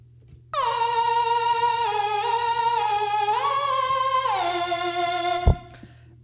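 A bright, buzzy synthesizer tone from a Native Instruments Massive patch holds a sustained note, sliding between a few pitches, then cuts off with a short thump.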